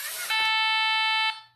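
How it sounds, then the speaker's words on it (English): A LEGO Mindstorms EV3 robot plays one short, steady electronic tone with a buzzy harmonic edge, clear and close, lasting about a second after a brief rustle. "it played the short beep that we programmed it to"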